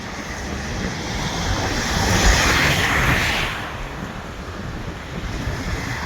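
Surf washing onto a beach in Tanzania, with steady broadband wind rushing across the microphone; the waves swell to a louder peak midway and then ease back, with no voices.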